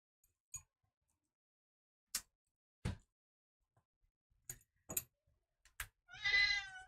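A cat meows in short, separate calls with quiet gaps between them, close by, ending in a longer drawn-out meow.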